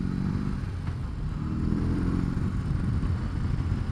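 A 2024 BMW R 18 Roctane cruiser motorcycle rides at steady speed, its engine a dense low rumble mixed with loud wind buffeting, sustained and close throughout with no talking.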